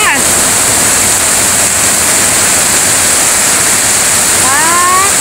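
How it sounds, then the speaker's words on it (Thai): Heavy rain pours down in a storm just after a rice harvest, with water running hard, a loud steady broadband roar throughout and a voice briefly at the start and near the end. "ฝนตกน้ำไหลหลวดๆเลยค่ะ"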